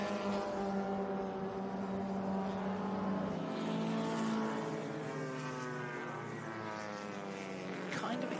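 Race cars at the Rolex Monterey Motorsport Reunion at WeatherTech Raceway Laguna Seca drone loudly and continuously, overlapping engine notes rising and falling in pitch as cars pass.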